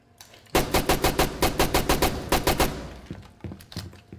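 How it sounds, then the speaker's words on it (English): Loud gunfire from a weapon in Rainbow Six Siege, set to three-round burst mode: a rapid string of sharp, evenly spaced shots, a short pause, then several separate bursts and single reports trailing off. "you could also fire it in 3-round bursts. And of course, single fire"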